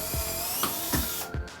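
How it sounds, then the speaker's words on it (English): A drill drives a screw into plywood during a camper renovation, with a short run of rapid ratcheting clicks and whirring pulses, close and loud, with no talking. "Left-handed drilling."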